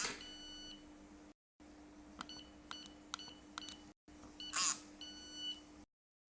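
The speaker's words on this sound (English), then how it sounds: "Introduce a 4-digit code and press Enter." Electronic lock keypad giving short, evenly spaced beeps as a four-digit code is entered and confirmed, then a longer tone, faint and close over a steady hum, with brief gaps of silence.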